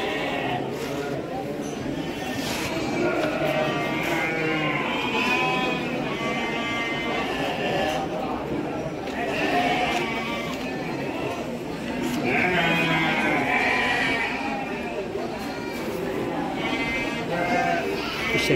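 At a busy livestock market, Garut sheep let out frequent nearby bleats that overlap steady background chatter from people.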